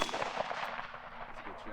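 A pistol fitted with a UUQ Eagle C28 SRO-style red dot sight fires a single sharp shot at practice, the crack standing out briefly over faint background noise.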